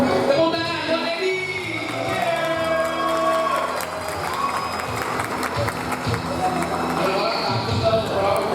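Steady audience clapping fills a drug-abuse awareness seminar hall at STIS Al Wafa, loud and continuous throughout, mixed with crowd noise and background voices.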